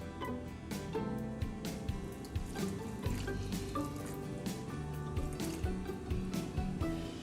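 Milk pours into basbousa batter in a bowl, a soft close liquid glugging and splashing that runs continuously for several seconds with small wet irregular bursts and no talk.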